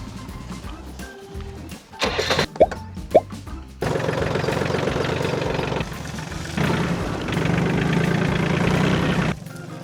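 Tractor engine running during an onion harvest in the field, a steady mid-low rumble that surges louder as it moves forward, with a few sharp knocks and clatters early on.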